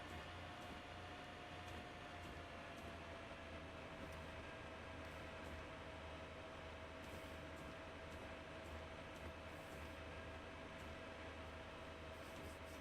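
A steady mechanical rumble with a sustained whine as a two-car Class 143 diesel railcar accelerates at full power in a train simulator game, running continuously without voices.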